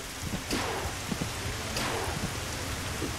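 Rain falls in the video game Dig or Die, a steady soft hiss of drops with a couple of brief louder spatters, heard alone.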